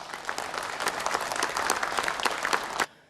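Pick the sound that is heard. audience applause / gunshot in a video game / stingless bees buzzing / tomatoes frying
audience applause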